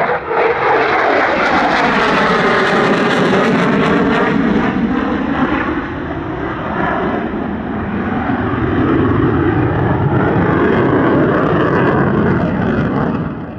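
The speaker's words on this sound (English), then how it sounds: "Notice, by the way, just one afterburner functioning throughout this performance" A Royal Malaysian Air Force F/A-18 Hornet flies a display at the LIMA Langkawi 2023 airshow with only one afterburner working, its loud jet roar sweeping past and shifting in pitch as it passes, continuous and alone.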